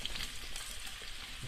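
Steady, dense sizzling of potatoes and onion frying in a hot pan, loud and continuous with no talking.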